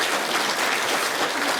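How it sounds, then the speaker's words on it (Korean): A church congregation applauding, steady broadband clapping from many hands filling the room for the full short stretch with no talk. "감사와 축복의 박수 한번 해주세요."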